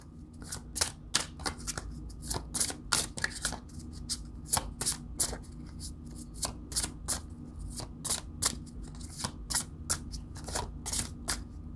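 A deck of tarot cards being shuffled produces steady crisp riffles and flicking slaps, repeating in quick irregular bursts at close range over a faint low hum, with no talking.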